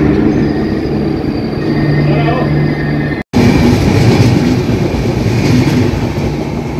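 Tourist express train with a vista dome rolling along the rails on the New Jalpaiguri–Alipurduar line near Kalchini station, a steady loud rumble and rattle of wheels on track, with a brief dropout midway.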